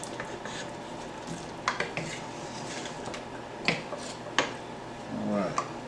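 Beef neck bone stew being stirred in a pressure cooker pot, with scattered spoon-on-metal clinks and soft wet squishing, close and moderate, over a low steady background hum.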